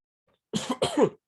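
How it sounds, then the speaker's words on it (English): Two quick, harsh coughs close up, one right after the other, with silence before them. "I really need to stop coughing."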